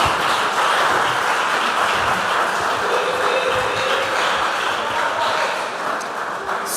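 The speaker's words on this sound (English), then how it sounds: "Please, a round of applause for Valerie." Applause from an audience at a Methodist junior high school quiz quarter-final, steady and dense throughout, loud and close with no clear breaks.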